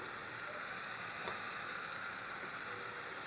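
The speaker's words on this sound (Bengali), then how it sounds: "ভালো করে ভুনে নেব।" Chicken frying in a pan with salt and turmeric powder for a spicy Bengali bhuna, a steady, close, even sizzle with no talking.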